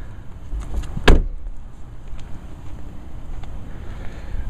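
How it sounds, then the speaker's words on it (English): A single solid car door slam of a 2014 Chevrolet Cruze Turbo Diesel rings out near the start, followed by outdoor wind and a couple of faint clicks. "Let me just close all the doors real quick."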